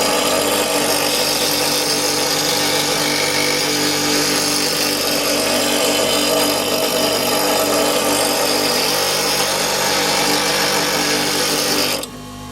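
A twin belt sharpener grinds a woodturning tool in a loud, continuous abrasive whine that holds steady throughout, then cuts off abruptly at the end.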